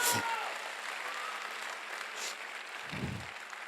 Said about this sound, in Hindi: मैं चाहूंगा अगले लोग तक एक जोरदार तालियां होनी चाहिए।